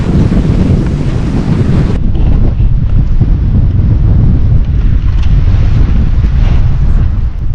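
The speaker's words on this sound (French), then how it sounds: "Vent incessant depuis ce matin" Strong headwind on a bikepacking ride through the Sahara in Mauritania roars steadily against the microphone, a loud, continuous buffeting rumble that never lets up, with no voices.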